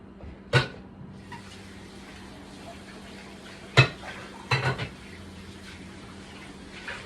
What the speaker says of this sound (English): So I'm going to cover my ackee and leave it until it's thoroughly cooked.